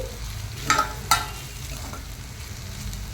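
Raw plantain slices frying and being stirred with chili powder and coriander powder in a pan: a steady low sizzle with a few sharp scraping stirs near the start, close and moderately quiet, no voices.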